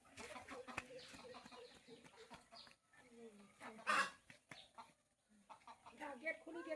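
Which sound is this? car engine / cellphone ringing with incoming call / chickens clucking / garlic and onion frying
chickens clucking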